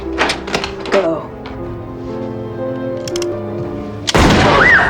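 A single loud, sharp gunshot blasts out near the end, cutting abruptly through a sustained tonal background with earlier scattered thumps and hits, as a man named Wenceslas is fatally struck in a dramatic story.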